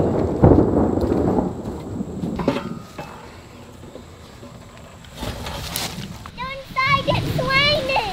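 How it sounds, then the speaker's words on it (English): A thunderstorm rolls in over a rural firewood-splitting site with low rumbles of thunder and the hiss of rain, while people talk nearby and birds chirp toward the end. "There's some thunderstorms moving in."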